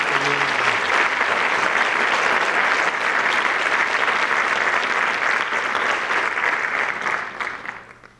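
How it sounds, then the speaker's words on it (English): Sustained audience applause at a high school awards ceremony, loud and dense for about seven seconds before fading out at the end; a brief bit of speech shows at the very start. "if we could have one more round of applause for our senior."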